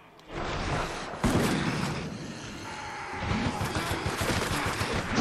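Video game gunfire in Resident Evil: Operation Raccoon City, a dense fusillade of rapid shots and bursts running steadily throughout, loud and close, with a sharp heavier burst early on and no talking over it.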